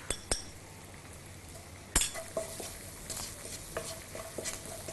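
Garlic and chilli flakes frying in a pan, a soft sizzle under a spoon clinking and scraping against the metal, with sharp knocks near the start and middle and quieter stirring taps after.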